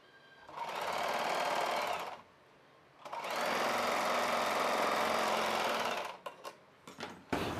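A sewing machine stitches the side seam of a child's summer frock in two sustained runs, the second longer, then a few brief handling knocks at the end; no talking.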